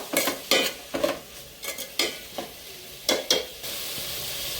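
Mushrooms frying in a pan for a curry, with a spoon stirring in sharp scraping strokes at an irregular rhythm over a soft sizzle, close and clear, then a steady hiss of frying at the end.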